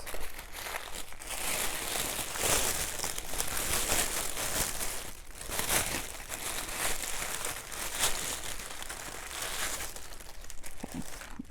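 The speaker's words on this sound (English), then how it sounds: "Mind me unwrapping this." A wrapped package of gemstone beads is opened: plastic crinkles and crumples continuously and close up, with bursts of louder rustling and tearing for several seconds and no voices.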